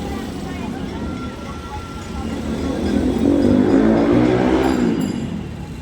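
An auto rickshaw carrying an injured woman to a nearby hospital pulls away through a crowd, its engine swelling louder mid-clip and then easing off, with voices around it.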